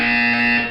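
A harsh, steady electronic buzzer from the Portal 2 video game's wellness exercise blares loud and continuous for under a second, with no speech.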